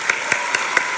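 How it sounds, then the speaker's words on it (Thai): Audience applause at a training seminar for a Nutrilite Double X Phytoblend product launch, heard as a few distinct sharp claps spaced evenly over a steady background of clapping. "ขอเสียงปรบมือดังๆนะครับ"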